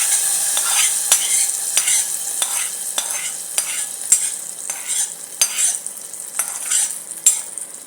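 Mustard seeds, urad dal and a green chili sizzle steadily in hot ghee and oil, a close, continuous frying crackle broken by regular scrapes and taps of a spoon stirring the pan, with no voices.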